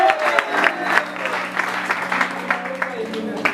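A group of children at a church gospel lesson breaks into brisk, rhythmic clapping for a classmate, loud and near, continuing throughout beneath overlapping voices.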